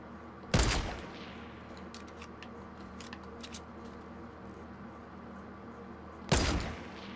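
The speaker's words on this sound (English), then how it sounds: "he's shooting at another team over there, too" Two short, sharp bursts of gunfire in Fortnite on Xbox One S, several seconds apart, standing out over a quiet background.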